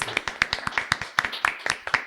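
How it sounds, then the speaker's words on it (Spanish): Audience clapping at a podcast recording, a small group applauding in quick, fairly regular claps, close and clear for a couple of seconds. "Así que un aplauso para ellos."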